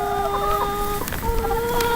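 Organic chickens kept shut in their coop, fed natural herbs and raised without antibiotics, cluck steadily at close range, with overlapping calls and a few sharper squawks.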